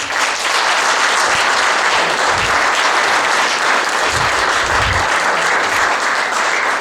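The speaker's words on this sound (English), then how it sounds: "let's give all the speakers a round of applause." An audience at a book launch claps for the speakers, a dense and loud burst of applause that holds steady for the whole stretch, with a few low thumps mixed in and no speech.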